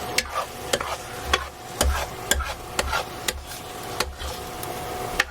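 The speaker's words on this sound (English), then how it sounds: "One last stir" Spoon scraping and stirring Gardein Lambless Vindaloo in a pan as it heats, irregular knocks and scrapes with a faint sizzle underneath, close and moderately loud.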